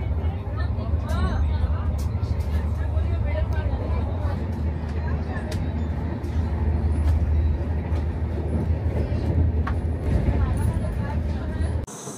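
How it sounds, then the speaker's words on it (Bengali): Rajdhani Express train pulling into Durgapur station, a loud continuous low rumble of the moving carriages with clanks and brake hiss, people's voices murmuring faintly beneath. "আমাদের ট্রেন অবশেষে চলে এসেছে তার ফার্স্ট স্টপেজ দুর্গাপুরে"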